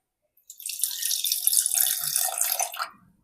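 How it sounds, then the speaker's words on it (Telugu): Water is poured into a cooking pot during home snack preparation, a steady splashing stream that starts abruptly, runs for a little over two seconds and then tapers off, close and alone with no talk. "కొద్దిగా నీళ్ళు వేసి ఇందులో వేసినాను"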